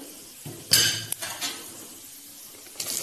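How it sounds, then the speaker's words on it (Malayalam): Sliced onion tipped into a hot pan of roasting ingredients for onion thambuli, giving a sharp clatter and brief sizzle, followed by a few light utensil clinks and a faint background hiss, with another clatter at the end. "സവാള ആഡ് ചെയ്ത് കൊടുക്കാം."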